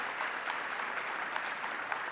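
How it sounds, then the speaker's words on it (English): Applause fills the room at an awards ceremony gathering, a dense, even roar of many hands clapping, fairly distant and uninterrupted, no voices on top. "A round of applause for everyone here."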